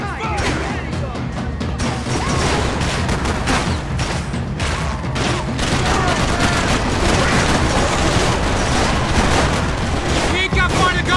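Heavy gunfire fills a Max Payne 3 shootout, dense overlapping shots and crashes roaring continuously at close range, with shouted voices mixed in.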